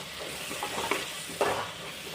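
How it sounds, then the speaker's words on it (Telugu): A spoon scrapes and stirs through a tomato and chana dal curry sizzling in a pan as spices are mixed in, with a couple of brief louder scrapes over the steady frying hiss. "ఒకసారి అంతా కలిసేలా కలిపేసుకోండి."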